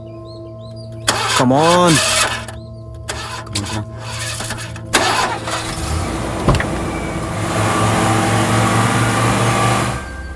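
Car engine cranks with a few stuttering attempts, then catches and settles into a steady idle, fairly close, with people talking nearby.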